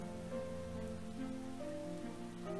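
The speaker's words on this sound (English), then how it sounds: "I love this sideways rain" Sideways rain in the video game Starbound, a soft continuous hiss of falling rain heard faintly beneath steady tonal game music.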